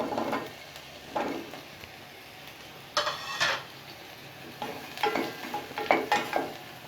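Sliced okra sautéing in a pan gives a soft sizzle under intermittent clinks and scrapes of a spoon stirring, quiet and close, with a few sharper knocks.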